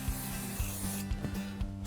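Fibo Clean cleaner is sprayed onto the bottom of a wall panel to lift excess sealant, giving a close hiss with short rubbing bursts and no talking.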